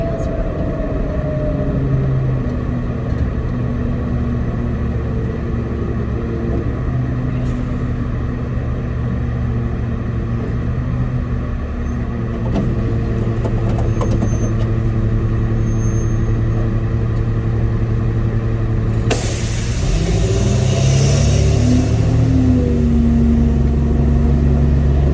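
Air brakes on a three-axle truck with a lifting tag axle release a loud hiss of air near the end, over the steady low rumble of the engine and road noise inside the cab.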